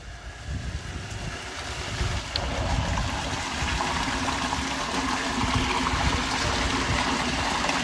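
Water flows freely through a farm field, a steady rushing wash that stays even and moderately loud throughout, with a faint background hum and no voices.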